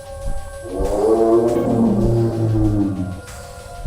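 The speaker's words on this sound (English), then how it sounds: "I heard the bellowing roar" A monster's bellowing roar from the NES Godzilla video game, a single long, loud, tonal cry with layered harmonics that swells and slowly sinks in pitch over a few seconds.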